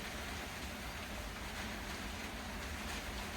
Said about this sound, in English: Hear that rain coming in?